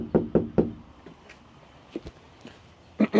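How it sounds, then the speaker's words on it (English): Knuckles rapping on the front door of a house with cars in the driveway: three loud, close knocks in quick succession, a few fainter taps, then two more firm knocks at the end. "let's knock on this door"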